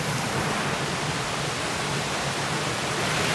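Steady, loud rushing water at a stream crossing near waterfalls, a broad unbroken roar close by with no voices.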